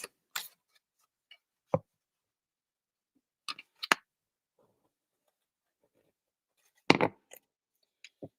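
Scissors snip paper into leaf shapes in a few sharp, isolated clicks and cuts, close and quiet, with silence between them.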